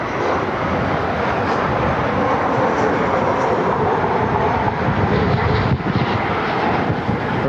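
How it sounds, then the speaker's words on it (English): An Air Canada Jazz airliner on a Montreal flight at Cleveland Hopkins produces a loud, continuous broadband engine roar that stays steady across the whole stretch, with a brief dip near the end. "welcome Air Canada Jazz Montreal flight"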